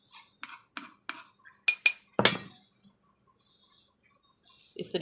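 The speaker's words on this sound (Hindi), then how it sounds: "इसको हम बर्तन में निकालेंगे।" Mint and pomegranate-seed chutney being scooped into a serving dish, a few light utensil taps on the bowl followed by sharper clinks and a scraping rattle, then quiet with a faint knock at the end.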